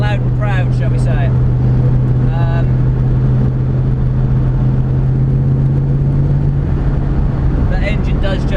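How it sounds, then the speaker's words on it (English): A tuned 4.6 Rover V8 in a Ford Capri cruises with a loud, steady, deep engine drone throughout, and a voice speaks briefly near the start and end. "The engine does just sort of want to go,"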